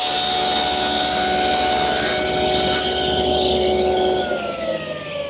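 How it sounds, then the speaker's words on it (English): A power drill driving 2 1/2 inch screws through an assembled wooden frame into a cabinet carcass, one loud sustained whirring run up close that winds down toward the end. "Now I'm attaching the assembled frame to the carcass with some 2 1/2 inch screws."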